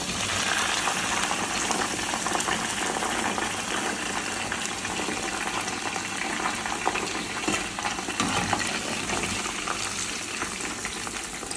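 Kelewele, spiced plantain pieces, frying in hot oil: a steady, dense sizzle and crackle that holds at an even level throughout, with no voices.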